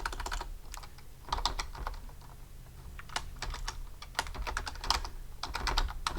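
Java code is typed on a computer keyboard in steady bursts of rapid, close key clicks, with a brief pause near the middle.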